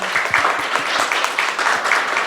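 A seminar audience claps for a climate change law research team, a short, moderately loud round of mixed individual claps in a room, steady and close, with no talking.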